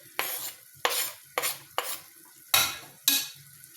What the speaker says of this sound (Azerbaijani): beləcə qarışdırırıq ki, bir yerdə yaxşıca pişsinlər